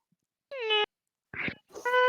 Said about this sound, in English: Start to hear a meow as Akroa's train swords activated.